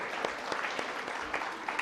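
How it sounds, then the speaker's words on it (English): Audience at a women's event at an international school applauding an honoree, steady soft crowd clapping heard from a distance for a short stretch. "A big round of applause for Pramodini."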